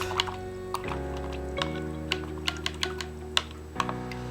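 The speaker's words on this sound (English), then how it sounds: "Now I'm gonna go ahead and rinse my brush off." Paintbrush rinsed in a water container after acrylic value-scale painting, a series of light close clicks and taps of the brush against the jar with soft drips over a steady low hum, no talking.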